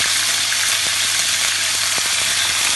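Ginger garlic paste sizzles steadily in hot oil, a dense, even crackle of frying held close up for the tempering of slow-cooked paya, with faint clicks of a utensil underneath.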